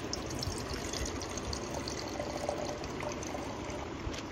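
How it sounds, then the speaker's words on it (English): Mojito liquids are poured from a shaker with a built-in strainer into two glasses, a close, soft trickling splash that runs steadily without pause. "So I'm just gonna pour these liquids equally into both."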